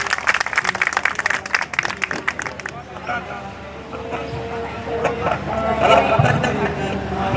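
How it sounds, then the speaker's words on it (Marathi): A crowd at a devotional kirtan gathering applauds in a dense, loud burst of clapping for about three seconds, then a voice carries on over a noisy hall. "टाळ्या वाजवा जोरात."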